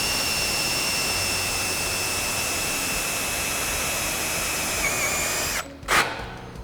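Power drill driving screws through hinge posts during a Tru Close hinge installation, a long steady high whine that cuts off abruptly near the end, followed by a brief burst of noise.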